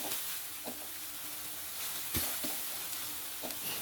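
Red curry paste stir-fried in coconut cream over medium heat, a constant soft sizzle with occasional spatula taps and scrapes against the pan.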